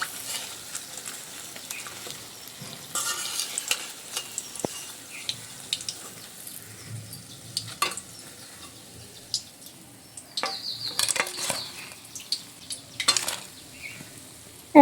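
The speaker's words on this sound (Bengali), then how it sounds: "একই রকম ভাবে আমি বাকি পকোড়াগুলো ভেজে নেব।" Bitter gourd pakoras deep frying in hot oil, a steady sizzle running under occasional clinks and scrapes of a utensil against the pan, with no talk.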